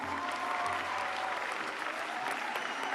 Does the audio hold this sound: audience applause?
yes